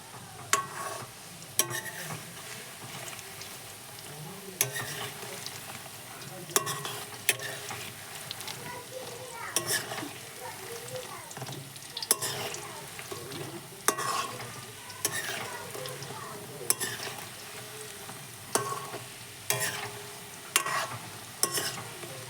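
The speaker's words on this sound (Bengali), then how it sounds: "বেশ সুন্দর করে উল্টে পাল্টে আরও 10 মিনিট লাল লাল করে ভেজে নেব।" Soybean pakoras frying in a pan sizzle steadily while a utensil turns them, with regular scraping clicks against the pan every second or two, close and alone with no talking.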